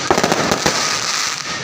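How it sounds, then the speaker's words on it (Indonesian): Fireworks and firecrackers pop and crackle in a dense, continuous barrage on New Year's Eve in Sleman, loud and close with rapid overlapping bursts and no talking. "Walaupun ada suara petasan hanya lokal saja"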